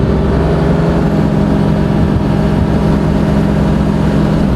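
A twin turbo Cummins diesel swapped into a Ford F250 drones loudly at about 50 mph as the truck is forced into a downshift, a steady deep engine roar with road noise, heard from close inside the cab.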